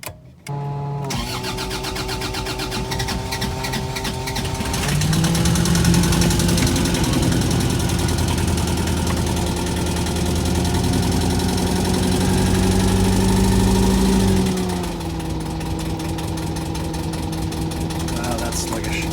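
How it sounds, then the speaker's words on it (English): An engine cranks and catches after a fuel line air leak is purged, then idles steadily at a moderate level with a slight rise and settle in pitch, while a voice speaks briefly over it. "start the engine"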